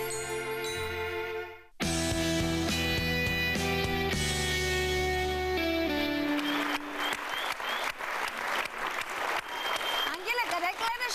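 Studio audience on a Bulgarian TV7 entertainment show claps over music, with applause swelling from the middle onward in dense, steady rounds that carry to the end, loud and close.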